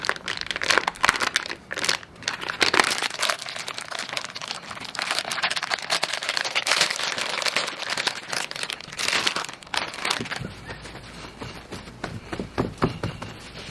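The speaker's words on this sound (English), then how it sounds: "First thing we got to do is unpackage this thing." Plastic packaging torn and pulled off a raw brisket, loud close crinkling and crackling that comes in irregular bursts throughout, with no voices.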